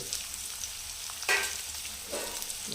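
Onions and green chillies fry in a pan for paneer bhurji, giving a steady soft sizzle with a brief scrape of stirring and a louder crackle near the end.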